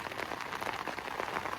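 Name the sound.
rain on Chesil Beach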